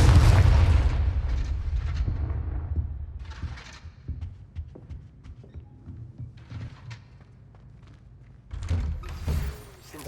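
A Confringo fire spell bursts in Hogwarts Legacy with a heavy close boom that rumbles and fades over several seconds. Scattered thuds follow, then a second, smaller burst near the end.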